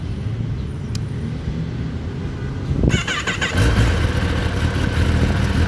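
A Kawasaki ZX-10R sport motorcycle cranks and fires up nearby, snapping into a loud, steady, rough idle after a short starter whine.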